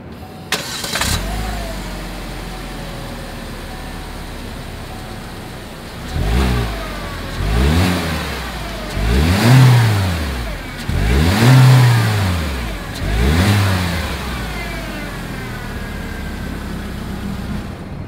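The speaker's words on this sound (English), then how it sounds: "As always, here is that exhaust clip." Exhaust of a 2020 Chevrolet Spark: the small engine starts, idles, then gives four loud revs in a row, each rising and falling, before settling back to a steady idle.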